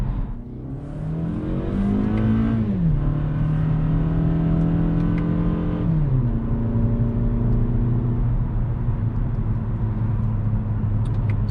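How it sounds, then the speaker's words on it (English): Engine of a 2021 Toyota Camry SE heard from inside while driving, a steady fairly loud drone that climbs in pitch through the gears, dropping at two shifts, with constant road rumble underneath. "The engine is a little bit on the louder side."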